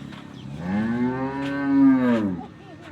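A cow on a dairy farm lets out one long, loud, close moo that swells and holds for nearly two seconds before fading into quiet barn background.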